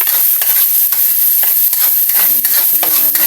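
Chicken fries in its own rendered fat with garlic and onion, a loud, steady, close sizzle broken by repeated stirring scrapes in the pan.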